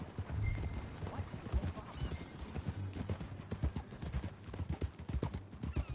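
Horse hooves clip-clop steadily at a trotting rhythm, close and clear, with faint background ambience.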